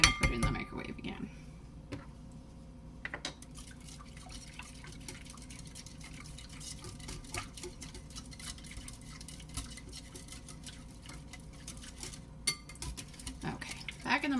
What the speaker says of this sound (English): Now I'm going to whisk it